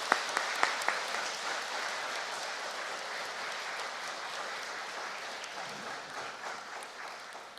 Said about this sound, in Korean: 박수로 함께 모시도록 하겠습니다.